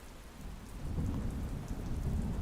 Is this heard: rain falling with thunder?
yes